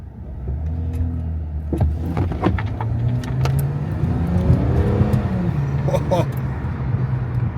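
A budget-build car accelerates hard through the gears on a track, its engine note climbing and dropping between shifts with a loud, close sound from inside the cabin. Voices are heard over it.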